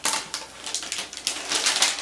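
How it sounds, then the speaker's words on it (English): Protective plastic film peels off a 27-inch Mid 2011 Apple iMac close up, giving a rapid series of crisp, crackling rips in short irregular bursts with no talking. "Still removing all the protective plastic from this thing."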